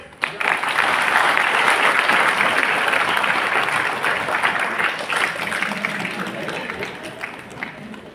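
An audience at a lecture hall event claps together in a long, steady round of applause that stays loud throughout and thins slightly toward the end.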